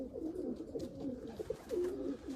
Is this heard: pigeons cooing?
yes